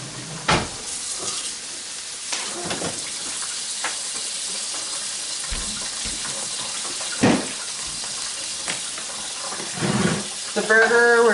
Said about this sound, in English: And then you're gonna rinse them in cold water.